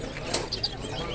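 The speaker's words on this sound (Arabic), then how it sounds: "جميع انواع الطيور المغرده والحيوانات الاليفه." Birds at the Bab Guissa bird market in Fez flap and call in brief bursts, with a couple of sharp chirps over a busy, murmuring market background.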